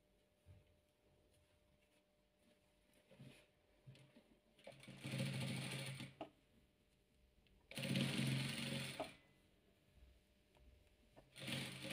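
A sewing machine stitching red and green patchwork fabric in two loud, sustained runs of a few seconds each, separated by quieter pauses with faint handling noise.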